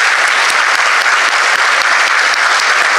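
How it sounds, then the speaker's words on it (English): Loud, sustained applause from an event audience, dense clapping filling the whole stretch at a steady level with no speech over it. "I'd like to give one more round of applause"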